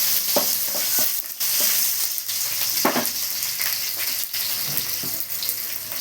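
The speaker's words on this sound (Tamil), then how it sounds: "நல்லா வதக்கி விட்டுக்கலாம்" Mixed vegetables with asafoetida sauté for avial, a bright steady sizzle with frequent scraping and stirring strokes close by, with no one talking.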